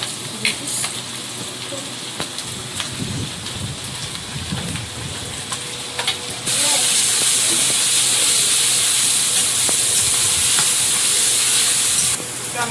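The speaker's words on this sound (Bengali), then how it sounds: "পেঁয়াজটা একটু ভেজে নিয়েছি ভালো করে আদা রসুন বাটা" Onion with ginger-garlic paste frying in a pan over a village charcoal fire, a steady sizzle with stirring scrapes that turns into a loud, bright hiss partway through and then drops back.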